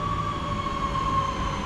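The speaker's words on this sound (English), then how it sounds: "arriving in now is the 12:40 Northern service" Northern passenger train pulls into a station platform, a loud, steady rumble of wheels and motors with a sustained high squeal from the rails throughout.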